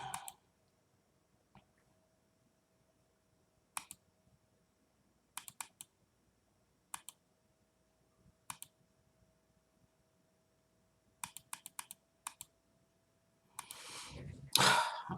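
Scattered computer mouse and keyboard clicks arrive in short bursts separated by long quiet gaps, close and crisp, ending in a louder rustling burst.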